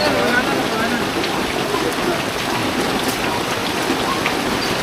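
Heavy rain pours down in a dense, continuous hiss, loud and close, drumming steadily on surfaces without letting up.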